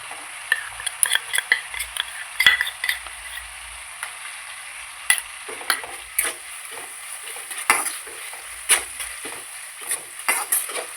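Tomato with ginger-garlic paste and ground masala paste frying in oil, stirred with frequent spoon clinks and scrapes against the pan over a light, continuous sizzle, close and without speech.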